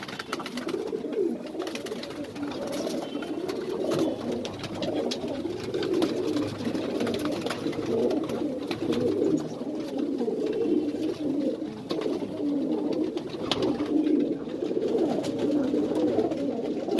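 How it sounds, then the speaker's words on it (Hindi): Madrasi pigeons, a female among them, coo steadily and overlapping at close range throughout, forming a continuous low murmuring chorus with no talk. "ये मक्को कबूतरी है।"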